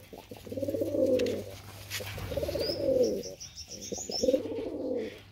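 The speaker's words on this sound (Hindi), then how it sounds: "देखो भाई कबूतर, कबूतरी की क्वालिटी देखो भाई" Pure-bred pigeons coo in three drawn-out, throaty rolling phrases, close and clear, with faint chirps above between the phrases and no talk.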